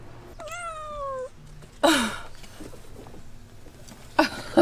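A cat meows twice close by, a long wavering cry followed by a shorter call, with faint background noise between.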